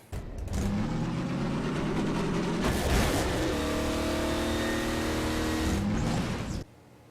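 In the Half-Life 2 Episode Two video game, a car engine revs and drones steadily as the vehicle picks up speed and drives on for several seconds, with gear-like pitch shifts, before cutting off abruptly.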